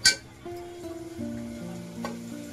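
Curry leaves are dropped into a hot pressure cooker with no oil. A sharp hit at the start gives way to a moderate, steady sizzle with some stirring, close by and without speech.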